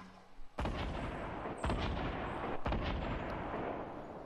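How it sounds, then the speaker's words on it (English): Explosive weapon fire from a grenade launcher in a Fortnite Battle Royale match near a swamp edge, with three loud blasts roughly a second apart, each leaving a rumbling tail that blends into dense game noise. "That is a grenade launcher."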